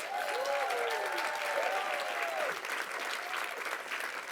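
Audience applause at the Tyler Prize 50th anniversary award ceremony, a steady, fairly soft wash of clapping from a crowd while a voice speaks faintly over it.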